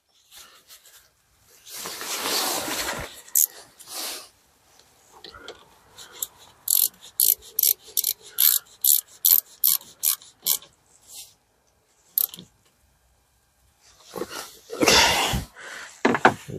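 10 millimeter ratchet wrench tightening the terminal nut on a 2012 Hyundai Tucson car battery: a quick run of sharp ratcheting clicks in the middle, with scattered handling noises and short rustling bursts before and after.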